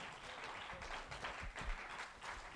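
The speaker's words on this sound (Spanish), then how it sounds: "Dele un aplauso al Señor" A church congregation claps in praise, a dense, lively burst of applause that swells and pulses in uneven waves, close and sustained without talk.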